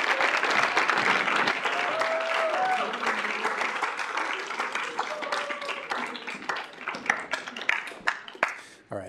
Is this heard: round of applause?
yes